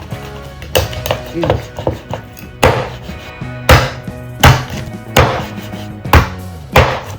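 A knife chops through tough turkey meat with about a dozen loud, close, heavy thunks at an uneven pace, while a person talks between and over the blows.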